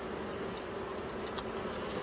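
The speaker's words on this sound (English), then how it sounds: "And there's some bees on the cover." Honeybees buzz steadily around an open hive being inspected by a beekeeper, a dense continuous drone close by with no speech.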